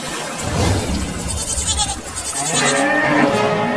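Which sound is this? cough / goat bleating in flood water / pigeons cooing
goat bleating in flood water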